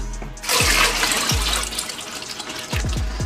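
Water splashes and pours for houseplants in an indoor grow setup, a broadband rush with gurgling starts, close and fairly loud, ending in a few short sloshes.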